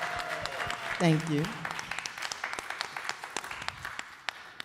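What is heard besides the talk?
applause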